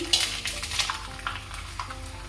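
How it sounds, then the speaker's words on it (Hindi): Sabudana and potato papad frying in hot oil, a close bubbling sizzle with small crackles and faint utensil touches, brief and unbroken. "इसी तरह हम सारे पापड़ फ्राई कर लेंगे"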